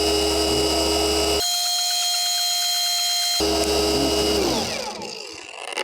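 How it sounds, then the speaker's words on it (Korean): An SPTA 5-inch polisher with pad and compound runs at maximum speed, a loud, steady, close whine whose tone shifts for a couple of seconds mid-run, then winds down toward the end. "마지막으로 SPTA 5인치입니다"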